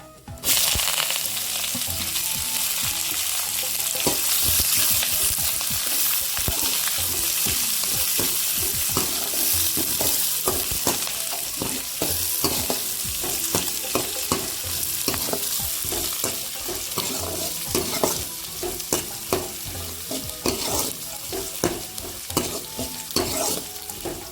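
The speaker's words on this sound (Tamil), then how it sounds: "கருவேப்பிலை, வெங்காயத்தையும் போட்டுக்கலாம்." Onion and curry leaves fry in oil in a pan for coriander rice, a continuous hiss of sizzling broken by repeated scraping and stirring clatter from a spoon, close and steady with no talking.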